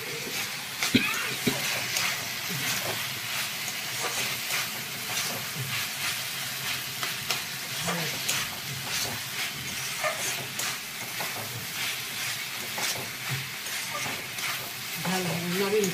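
Drumstick flower chorchori frying in a pan, a soft continuous sizzle and hiss with scattered stirring scrapes throughout, fairly quiet and steady with no talk.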